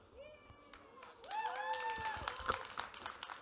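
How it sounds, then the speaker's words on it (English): A conference audience howls, whoops and applauds at a keynote event, the noise building from quiet into a sustained mix of voices and clapping with rising whistle-like cries. "my iPad says crowd howls. And you guys howled"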